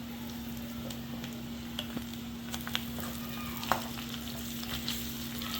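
Spleen fries with softened onions in a pan, giving a steady low sizzle with scattered light clicks and scrapes as it is stirred. The sound is fairly quiet and continuous, with a faint constant hum underneath and no talking.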